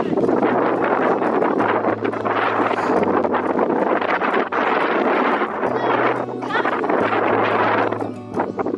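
Wind blows across a Shetland hillside on Royl Field, a steady loud roar that buffets the microphone throughout, with no clear talk over it.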